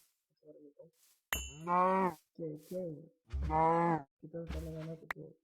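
Minecraft cows mooing in a series of short, low, buzzy calls, close and clear, with a few separate moos set apart by silence and someone speaking quietly at the start.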